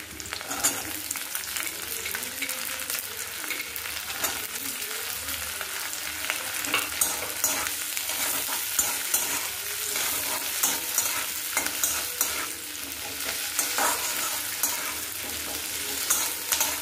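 Finely chopped onions fry in a pan for chicken manchurian, a steady busy sizzle that continues throughout with frequent light scraping and tapping as they are stirred.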